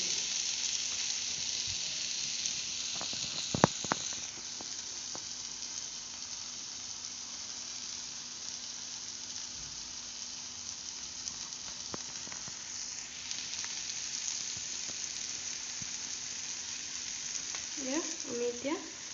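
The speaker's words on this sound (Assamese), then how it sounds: "এনেকৈ চাওক তেল ফুটি উঠিছে" Oil sizzles and bubbles in a pan with tomatoes for egg keema masala, a steady, quiet frying hiss that runs throughout, with a few clinks and brief stirring noises along the way.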